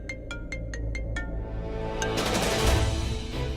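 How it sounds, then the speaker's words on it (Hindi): A phone rings with a short run of rapid electronic tones repeating several times, then a brighter chime over a swelling background hum. "फोन बज रहा है।"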